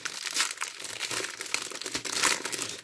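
Plastic packaging of diamond painting kits crinkles and rustles close up, steady handling with louder crackling bursts as it is pulled open.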